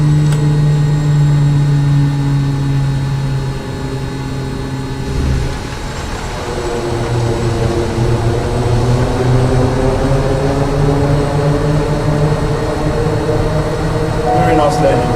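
A Kodiak bush plane in Microsoft Flight Simulator 2020 touches down, its propeller engine droning steadily and then winding down in pitch after a thump, with voices talking over it.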